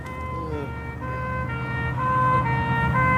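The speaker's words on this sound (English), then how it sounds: "Fire engine coming up behind." A wailing fire engine siren closes in from behind, its rising and falling tones steady and growing louder over a low engine rumble.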